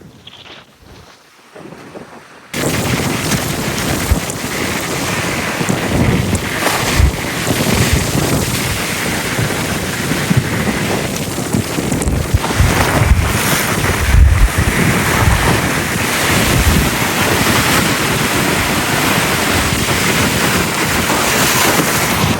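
Strong storm wind roars over the microphone together with rushing, surging water from a cyclone in Jaffna, loud and continuous after a quieter opening couple of seconds.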